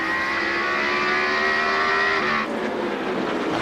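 NASCAR stock cars on fresh tires at the 2003 Subway 500 roar past loudly and continuously, a close engine pass that drops off sharply toward the end.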